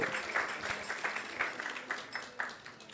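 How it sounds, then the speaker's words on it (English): A round of applause from a gathered audience at a Krishna Katha talk, dense, moderately distant clapping that rises and falls over a few seconds. "So give them a big round of applause."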